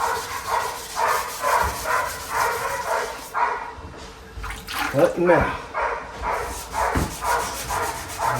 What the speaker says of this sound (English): Here are my bird dogs. I got some expensive bird dogs, hunting dogs.